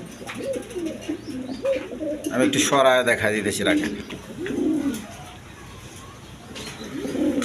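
Quality pigeons, a male and an egg-laying female, coo in low, rolling bursts nearby, with a brief rustle of wings, while someone talks over them for much of the time.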